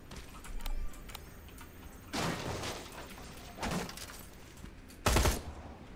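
Several bursts of video game gunfire from a weapon fired by accident, spaced irregularly with quiet gaps between them, the last burst the loudest.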